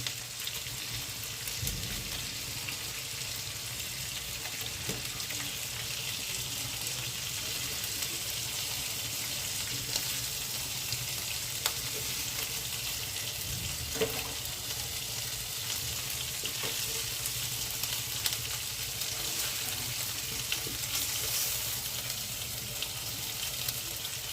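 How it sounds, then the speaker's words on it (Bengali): Steady, soft sizzling of chicken frying in a pan, a continuous faint crackle with occasional light clicks and no voices. "দুটো সাইডই খুব ভালোভাবে ফ্রাই হয়ে গেছে, এবার তুলে নিচ্ছি।"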